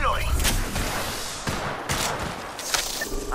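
Gunfire rattles loud and continuous through a shooter game firefight, with repeated sharp shot bursts over a dense noisy background and a voice partly mixed in.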